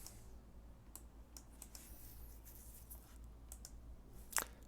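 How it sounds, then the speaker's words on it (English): Quiet clicks of typing on a computer keyboard in an office, with irregular keystrokes scattered across a few seconds and one sharper, louder key press near the end; no one speaks. "I'm typing."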